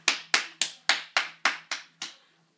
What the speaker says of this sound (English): Let's give Bavanna Sartells a round of applause